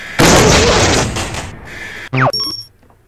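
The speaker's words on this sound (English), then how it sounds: "Electricity plus grenade equals crazy explosion, apparently." A grenade combined with a taser goes off in a Henry Stickmin video game: a loud, broad explosive blast lasting over a second, followed by a couple of short cartoonish pops and a bright ringing ding, with no talk over it.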